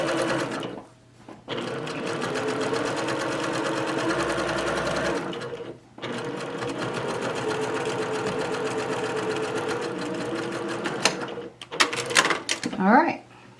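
A sewing machine top-stitches a shirt in long, steady runs of rapid mechanical whirring, broken by short pauses. Some clicks follow near the end.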